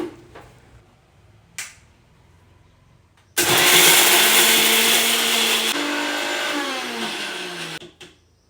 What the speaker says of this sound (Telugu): మిక్సీ జార్ మీద మూత పెట్టేసి మిక్సీ పట్టుకొస్తా